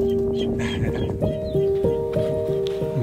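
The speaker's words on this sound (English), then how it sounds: "We're ready to get the rooster out." A rooster being taken out of a coop on a windy day clucks and mutters in short repeated bursts, close by, against steady background noise with a faint tonal hum.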